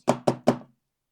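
A keyboard space key that feels odd inside gives three quick, evenly spaced hollow clacks, close and distinct, each ending in a short rattle, then silence.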